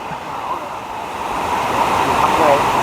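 Waterfall at Khlong Lan National Park in Kamphaeng Phet, Thailand, with a steady, loud broadband rush of falling water that builds slightly toward the end and continues throughout, with no talk.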